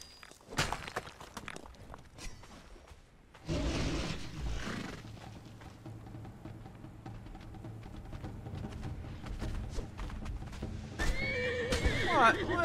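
Horse neighs and clip-clopping hooves in the video game Conan Exiles, with whinnies rising loudly over steady hoofbeats through the stretch and a louder burst near the end, while a person talks throughout.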